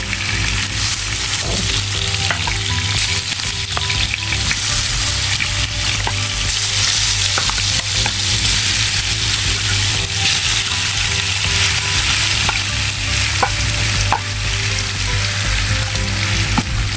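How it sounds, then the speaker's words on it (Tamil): Fish frying in hot oil for a Tamil chilli fish fry, a loud, steady sizzle and crackle that carries on without a break, with faint scrapes and clinks from a utensil in the pan now and then. "ஆயில் வந்து நல்லா ஹீட் ஆகிட்டு இப்போ நம்ம வந்து ஃபிஷ் எல்லாம் வந்து ஒன்றா எடுத்து வைக்கலாம்"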